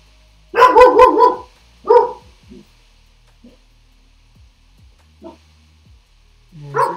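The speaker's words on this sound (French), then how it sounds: "ce chien, dès qu'il y a quelqu'un qui passe devant la maison, il aboie." A dog barks at people passing in front of the house, a loud close burst of several rapid barks followed by a single bark, then fainter yips and whimpers spaced out over quiet stretches.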